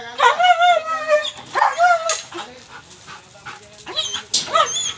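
A German Shepherd dog whimpers and lets out short yips and barks in bursts, close by, with a person speaking at moments between the sounds.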